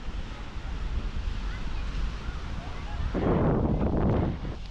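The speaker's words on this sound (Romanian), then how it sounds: "Aici e Marea Adriatică." Adriatic Sea waves wash onto a pebbly city beach in Bar, Montenegro, a steady roar of surf with wind buffeting the microphone, swelling into a louder crashing rush near the end.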